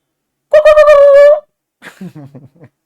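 A human voice imitates bird calls as part of a folk dance tradition, first a sustained warbling hoot, then a shorter broken series of chirping coos after a pause.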